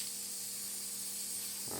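An airbrush sprays out paint thinner in a steady, soft hiss that runs throughout and cuts off near the end, close and alone without talking.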